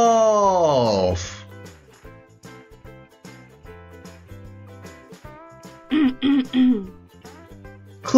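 A person clears their throat in a few short, rough bursts near the end, close by, after a stretch of soft background music.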